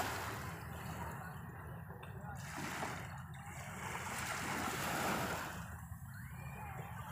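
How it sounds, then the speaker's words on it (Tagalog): Calm sea waves wash gently and steadily, a soft, faint broadband rush that swells slightly and eases back without any distinct breaking crashes. "Napaka-calm down ng dagat ngayon."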